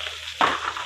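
Shredded tuna stir-fried with salt, MSG and chili sauce: a single scrape of a spatula through the pan over a soft sizzle, close and brief.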